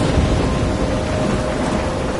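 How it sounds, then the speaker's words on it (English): Heavy rain and rolling thunder fill a stormy scene in the video game Life is Strange, a steady loud broadband wash of downpour with low rumbling underneath, continuous and close, no voices. "I'm trapped in a storm?"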